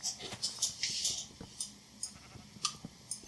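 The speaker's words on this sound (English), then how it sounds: "This must be a sheep herd somewhere." Several sheep in the video game Minecraft bleat in short, repeated calls at moderate distance, scattered irregularly over quiet background clicks.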